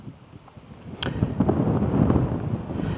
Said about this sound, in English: It's a nice wind today